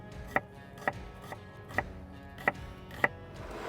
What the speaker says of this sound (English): Slice it in half. Peel, and then a very nice fine slice.